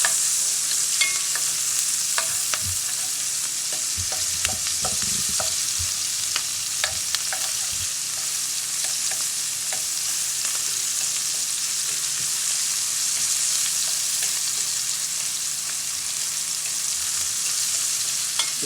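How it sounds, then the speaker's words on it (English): Onions for smothered pork chops fry in a pan with steady close sizzling, broken by frequent scraping and clicking stirs from a utensil, continuous throughout with no talking. "you let this onion cook for about maybe like a minute and a half"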